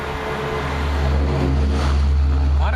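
Dense roar of passing road traffic with a deep droning rumble of a plane swelling overhead, steady and fairly loud with no talk.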